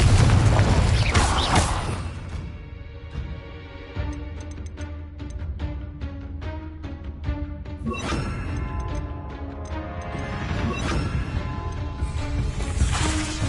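Repeated Confringo blasting spell explosions in Hogwarts Legacy, loud crashing booms at the start and again near the end, separated by a run of rapid clicking impacts and ringing magical tones.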